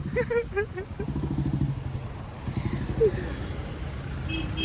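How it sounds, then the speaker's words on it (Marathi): Congested vehicle traffic in the narrow lanes near the ghats of Banaras, a steady rumble of engines and horns close by, with people talking over it throughout. "सगळ्या घाटांतून जाम ट्रॅफिक आहे fit fit fit fit traffic"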